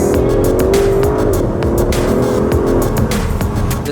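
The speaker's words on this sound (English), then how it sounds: "Astons were always known for their beautiful, reverberating, atmospheric roar." Aston Martin DB11 turbocharged engine giving a loud, sustained exhaust roar with a steady tone and slight pitch shifts, close and continuous throughout, with no talking.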